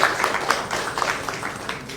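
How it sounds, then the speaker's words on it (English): An audience at a public address on district assembly funding claps in a dense, steady round of applause, fairly loud and continuous throughout. "So you can clap."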